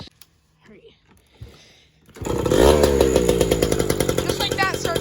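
After a few quiet clicks and fumbling, a Yamaha PW80 dirt bike engine sputters to life and settles into a loud, rapid, buzzing idle close by.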